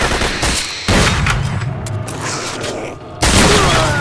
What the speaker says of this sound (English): What are you guys doing shooting each other?